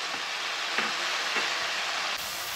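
Tomato and green chilies go into sizzling oil with a cauliflower and potato sabzi, giving a dense, even frying hiss with a few soft stirring bumps and no voices.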